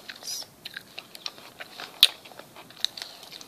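Someone chewing food close to the mic, with soft crunchy bites and moist clicks in an irregular rhythm and one sharper crunch partway through. No one talks.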